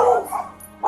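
A dog barks and yips inside a house as police enter, with a couple of loud, close, harmonic barks bracketing a brief quieter gap.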